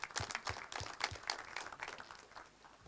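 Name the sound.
audience round of applause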